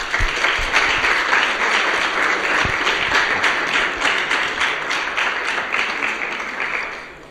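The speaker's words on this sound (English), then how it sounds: "let's begin another round of applause all of the poster presenters" An audience at an academic conference session applauds the poster presenters, a loud, full round of clapping that stays steady and then tapers off toward the end.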